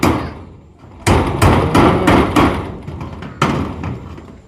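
Nails are driven into a house roof during construction, a series of loud, sharp hammer blows close by, about six strikes in an uneven rhythm with short pauses between them.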